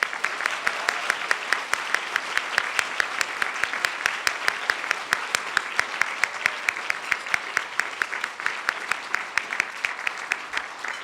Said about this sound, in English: A round of applause for John and a round of applause for everybody who has made this organization possible